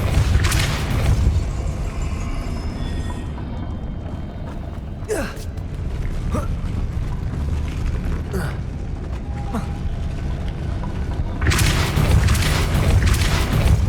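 Spell effect in the Hogwarts Legacy video game, a steady rumbling mechanical churn with a few sharp cracks and creaks, loud and continuous throughout.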